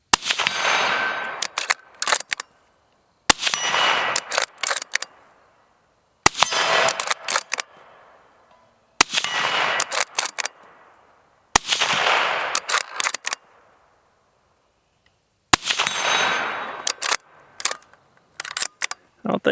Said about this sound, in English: we're shooting pieces of steel